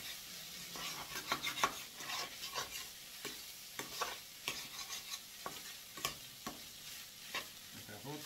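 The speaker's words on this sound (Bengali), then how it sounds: "এবার আমি ভাতটাকে নাড়াচাড়া করতে থাকি আমি ভাতটাকে ভালো করে নাড়াচাড়া করতে থাকি" Fried rice with fresh tomato being stirred in a pan for Indonesian nasi goreng: soft, quiet sizzling broken by irregular scraping strokes and occasional light knocks of the spatula, with no voices.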